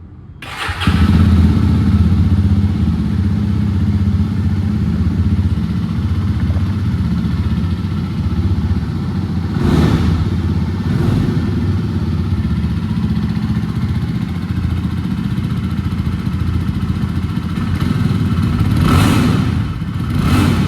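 A 2024 Jawa Classic 350 motorcycle engine catches and settles into a steady, loud rumble, with a couple of sharp throttle blips partway through and again near the end.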